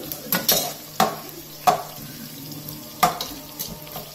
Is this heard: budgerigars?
no